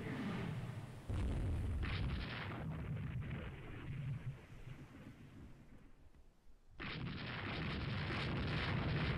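Heavy naval gunfire booms in the Rule the Waves 2 warship game, with deep rumbling salvos and sustained roaring blasts that cut off abruptly, then return loud and sustained after a brief lull, with no voices.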